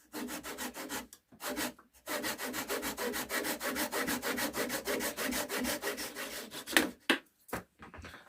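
Wood lathe tool cutting knobby bits off a log held between centres: steady rough scraping and rasping, close and fairly loud, with brief gaps as the cut starts and stops, then a few short final scrapes.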